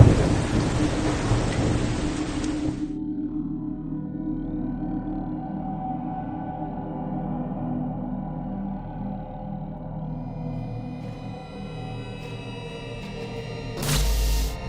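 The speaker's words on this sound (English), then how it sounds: "rain and hail that crashed loudly against the iron roof" A thunderstorm at a castle with hail and rain on an iron roof: a loud rushing downpour fades into a long, deep rolling rumble of thunder, ending in a sharp burst of noise.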